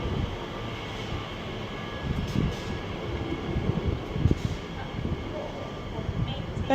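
A train runs through Romford station on the Great Eastern Main Line, a steady broad rumble and rail noise throughout with small bumps, heard from the platform with a faint background tone.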